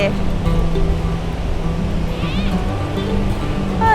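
Steady wash of sea waves and wind on a Thai beach, a continuous broad roar with some low traffic-like rumble underneath, fairly loud and close throughout.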